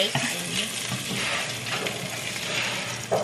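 Food sizzles and fries in a pan after being turned over, a steady crackling hiss with a few scraping stirs and light clinks of a utensil against the pan.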